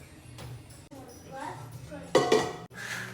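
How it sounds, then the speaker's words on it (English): A metal Prasad pot for sweet rice is set up, with soft clinks and clattering of metal cookware under a voice talking nearby, ending in a louder clank. "let me get my Prasad pot up"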